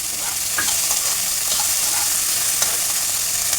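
Capsicum, tomato and carrot sauté in a pan with a steady, close sizzle and occasional light stirring scrapes, no voices over it.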